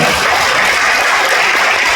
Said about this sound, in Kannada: ಮಲ್ಟಿ ಸ್ಟಾರ್ ಅವ್ರಿಗೆ ಒಂದು ಜೋರಾದ ಚಪ್ಪಾಳೆ